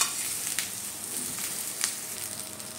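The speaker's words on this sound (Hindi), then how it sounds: "हल्का सा इसे सॉटे करेंगे यानी फ्राई कर लेंगे।" Boiled drumsticks (sahjan) sauté in oil in a frying pan, giving a soft, steady sizzle with faint stirring clicks.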